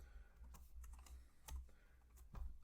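Quiet computer keyboard typing while entering code in R, a short burst of soft, irregular key clicks heard close but faint, with no voice.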